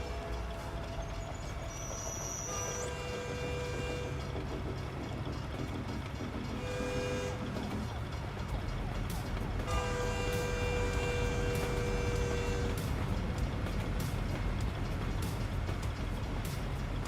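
A train rumbles past in American Truck Simulator, a continuous loud broadband roar with tonal horn-like blasts on and off throughout, heard alongside the truck's engine drone.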